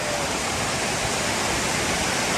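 Cold, silty, brownish glacier-fed stream running hard on the Pacific Crest Trail, a steady, dense broadband rush of water close by, loud and continuous with no voices over it.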